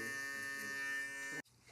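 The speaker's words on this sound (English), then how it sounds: "the next tool we're gonna use is the Instinct shaver" Instinct electric shaver buzzing steadily during a skin fade haircut, a loud close tonal motor whine that cuts off abruptly near the end.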